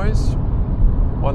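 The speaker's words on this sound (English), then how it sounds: "So at 150 there's a lot of wind noise and tire noise." Loud, steady wind roar and tire rumble inside a 2025 Forthing T5 EVO Sport cruising at 150 km/h at night, a continuous dense low drone filling the cabin throughout.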